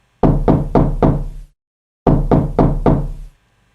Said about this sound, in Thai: แล้วจู่ๆก็มีเสียงเคาะประตูดังขึ้น